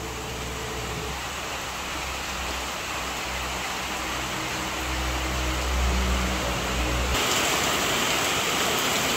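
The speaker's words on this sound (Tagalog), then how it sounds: "Ay inabot na po ng ulan." Steady rain pours down outdoors, a loud, dense broadband hiss with low rumble, continuing unbroken for several seconds before thinning to a lighter, airier patter near the end.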